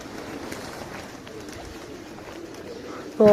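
Pigeons resting below coo softly and call to one another, a low, murmuring background that runs throughout before a short, louder sound at the very end.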